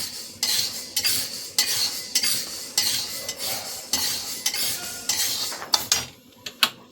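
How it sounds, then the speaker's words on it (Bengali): Fried lentils are scraped and stirred out of a pan into a vessel, making repeated metallic spoon scrapes and clinks over a faint sizzle, with a few sharper knocks at the end. "এবার আমি এটাকে একটা পাত্রের মধ্যে নামিয়ে নেব।"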